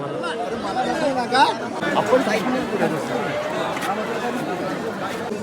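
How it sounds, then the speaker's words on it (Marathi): Dense crowd of pilgrims at Alandi, a steady close wash of many overlapping voices chattering throughout, with no single voice standing out. "मित्रांनो गर्दी एवढी झाली का जायचा रस्ता का यायचा रस्ता त्याच समजा नाही"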